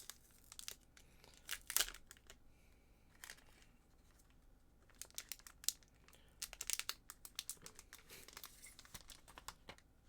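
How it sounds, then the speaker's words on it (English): Digimon promo card packs being opened, with crisp foil crinkling and tearing in short, close bursts, separated by quieter pauses. "Now I'm going to open the special promo cards."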